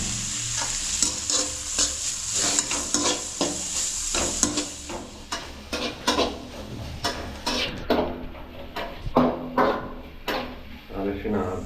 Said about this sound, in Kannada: ಈರುಳ್ಳಿಯನ್ನು ಸ್ವಲ್ಪ ಕೆಂಪು ಬಣ್ಣ ಬರೋವರೆಗೂ ಸ್ವಲ್ಪ ಕಾಯಿಸ್ಕೊಡಿ.